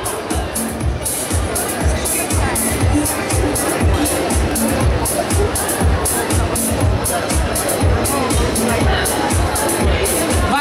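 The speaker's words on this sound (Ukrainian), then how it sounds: "Ваші оплески, ось вони!" A large crowd at a live concert in a shopping mall in Kyiv, with dense, steady hubbub and applause-like noise that fills the whole stretch at close range and never breaks.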